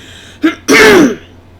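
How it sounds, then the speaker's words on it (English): A woman clears her throat twice during a live show, a brief short rasp followed by a longer, louder rough throat clearing, close and alone. "I really feel like I need to clear my throat again."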